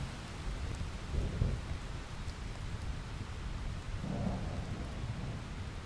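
Steady rain pours down at night, a soft, even hiss that never lets up, while low rumbles of thunder roll in twice from a distance.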